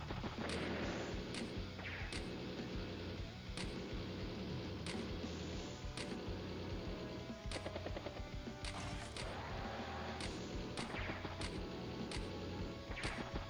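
A bomber strike in Advance Wars: Days of Ruin plays as a steady, loud run of game combat effects, with regular sharp clicks and thuds repeating over a dense synthetic backing and no voices.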